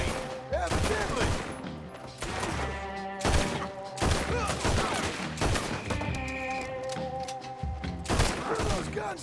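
Rapid volleys of gunfire in the Western video game Red Dead Redemption 2, with dense cracks and booms and some speech, continuing loudly and steadily throughout the scene.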